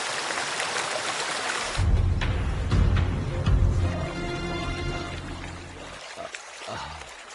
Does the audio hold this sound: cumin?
no